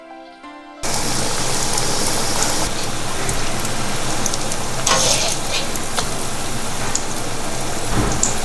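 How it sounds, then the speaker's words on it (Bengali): Puri-style khaja pastries frying in ghee and oil over medium heat: after a brief quiet start, a loud, dense, close sizzle with spattering crackles runs continuously to the end, without any talk. "মিডিয়াম আঁচেই ভাজতে হবে, খুব গরম তেলে কিন্তু খাজা দেওয়া যাবে না"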